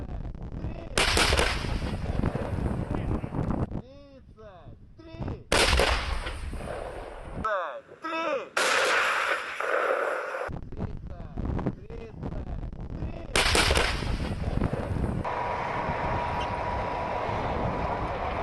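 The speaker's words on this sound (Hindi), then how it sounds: "रशिया ने यूक्रेन पर तोपें दाग दी हैं।" Russian artillery firing on Ukraine: heavy booming blasts in several separate bursts with rumbling, crackling tails between them, loud and broadband, interrupted by brief quieter gaps.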